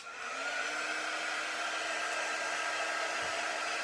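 A hair dryer blows steadily and evenly over a layered Celtic cross craft project, its airy whir staying constant and fairly close with no talking.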